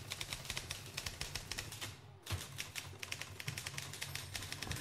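Smith Corona electric typewriter in use, fast, even rapid-fire key strikes close up with a brief pause near the middle, quiet overall and with no talk.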